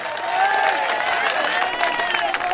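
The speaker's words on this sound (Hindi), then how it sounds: "आपकी तालियां सुनकर हमें कितनी खुशी होती है" An audience applauds at a Chhattisgarhi comedy show, steady close clapping mixed with crowd noise and a voice or two, sustained without a break.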